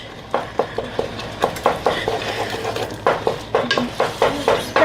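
Cream cheese being smashed and stirred in a pan to melt it, with a run of sharp utensil scrapes and taps against the pan, close and fairly loud, and no voices.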